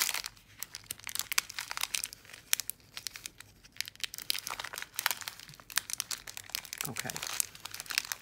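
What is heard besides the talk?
plastic bag and tape crinkling during unboxing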